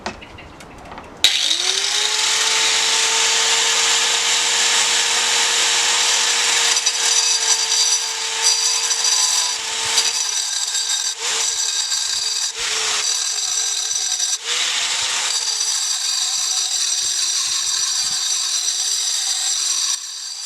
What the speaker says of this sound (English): then it was time to get busy with the angle grinder